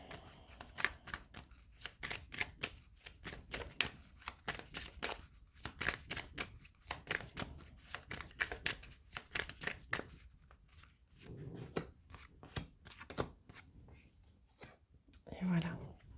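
Lenormand fortune-telling cards being shuffled close up, a long run of quick papery riffles and flicks in an uneven rhythm, with soft breathy whispering mixed in.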